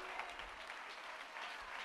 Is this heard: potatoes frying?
no